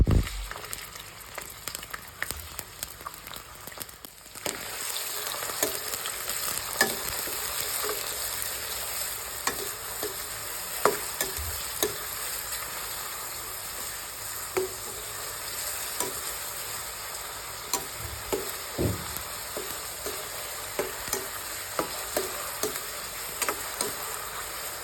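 Green chillies and thinly sliced onions frying in a pan for chicken gravy curry, a steady close sizzle with frequent small clicks and scrapes of stirring throughout.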